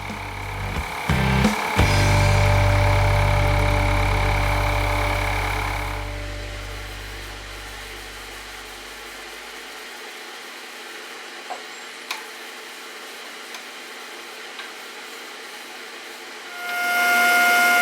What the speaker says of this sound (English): I'm using my bandsaw to cut off the excess on both ends.